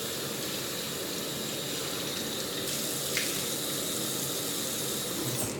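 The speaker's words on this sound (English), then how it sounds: "here's the water coming out" A tap runs steadily during a wet shave, giving a continuous, even hiss of flowing water that stays at the same level throughout with no talking.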